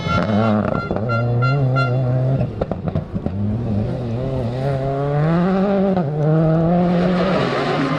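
A rally car on a gravel stage at the Rallye Terre de Vaucluse roars past, its engine loud and close, rising and dropping through gear changes and revs before pulling away.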